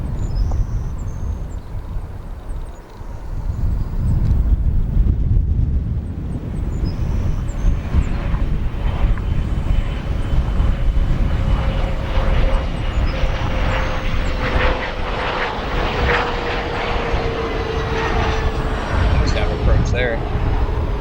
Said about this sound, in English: This flight for a 17-and-a-half-year-old Mitsubishi CRJ 200 will be arriving here on runway 10 Center.